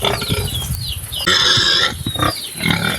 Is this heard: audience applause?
no